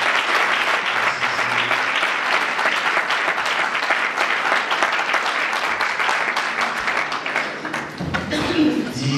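Church congregation clapping and cheering in praise, a loud sustained wave of applause filling the room throughout, with voices mixed in.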